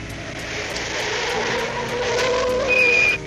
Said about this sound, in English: I better take a look at those squeaky brakes.